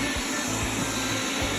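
Wyze robot vacuum running along a wall, a steady broadband whirring hum close by with faint low bumps as it moves.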